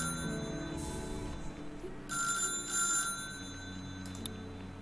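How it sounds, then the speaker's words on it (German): A telephone rings in the factory-management video game Little Big Workshop: a few short, bright bursts of electronic ringing over steady game background music. "Ich hasse das Telefon."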